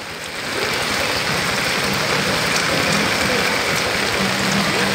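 Heavy rain pours steadily outside a rice shop, a dense, constant hiss of drops pounding surfaces that stays loud and unbroken throughout.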